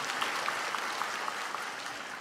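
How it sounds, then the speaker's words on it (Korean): A church congregation claps during a Sunday sermon, giving a steady, moderately loud patter of many hands that carries on evenly and fades slightly at the end. "박수를 쳐야죠."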